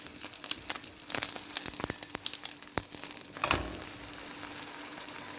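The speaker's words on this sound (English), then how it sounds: "We then wait for the bottom part of the egg to cook." An egg fries in a pan with margarine, crackling and sizzling steadily, with a few sharp scrapes and taps as it is turned over, then a louder sizzle that settles back into a constant hiss.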